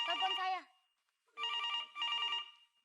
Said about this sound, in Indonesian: bukan telepon saya. Telepon saya.